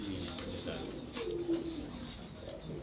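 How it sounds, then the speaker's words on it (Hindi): Low, rolling coos from a Mumbai-breed pigeon, close by, with one brief louder bump midway over constant background noise. "बहुत ज़बरदस्त, बहुत बुरा मना रहा है कबूतर"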